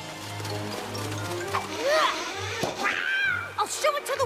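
A cartoon cat meows inside a sewer, a couple of short rising cries standing out over ongoing character dialogue and background music.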